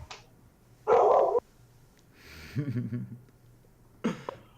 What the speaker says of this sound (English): now this dog is going crazy